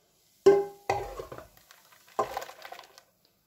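A hot chocolate mixture poured into a pot, heard as a few close, quiet clattering and fizzing bursts separated by brief pauses, without talk.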